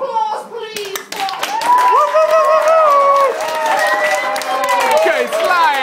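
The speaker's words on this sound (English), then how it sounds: "A round of applause, please, for..." Audience clapping at a Christmas party with a costumed Edinburgh-themed entertainer, mixed with excited shouting and high-pitched whoops and cheers from the crowd, including children's voices, close and lively throughout.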